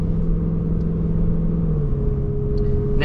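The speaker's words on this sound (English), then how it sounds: "it's just, like, brutally accelerating, like, straight down the road" A 2023 Cadillac Escalade V, a heavy luxury SUV, accelerates hard with a loud, steady engine drone heard from inside the cabin, its pitch climbing slightly and shifting near the end, with no talking.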